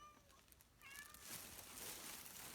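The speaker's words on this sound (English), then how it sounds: "I know you expect me to drop what I'm doing right now and feed you, don't you?" A hungry cat gives a couple of faint, short meows, the second rising and wavering, against steady broadband background noise.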